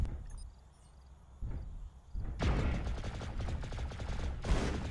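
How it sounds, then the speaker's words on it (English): Mech weapons fire rattles in rapid bursts during a MechWarrior Living Legends battle on the Terra Firma map, starting faint and then swelling into loud, sustained chattering volleys. "spread your damage when you're being fired on"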